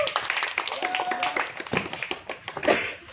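Hands clap in sharp, fairly quick bursts during a martial arts training drill for a school team, the claps mid-distance and mixed with busy room noise and occasional voices.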